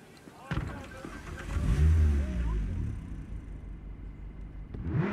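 A car engine in Cyberpunk 2077 rumbles and revs up, rising to a loud low roar before settling, with a voice speaking briefly at the start.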